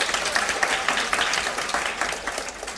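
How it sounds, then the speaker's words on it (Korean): A seated audience at a live finance talk show bursts into steady, dense applause, many hands clapping together for a few seconds, fairly loud and close, with no one speaking over it. "박수 한번 쳐드리세요."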